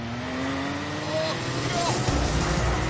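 A 3.5-litre V12 engine at full power, a loud sustained roar with a steady rising tone that swells and intensifies toward the end, close and continuous, with no talk over it.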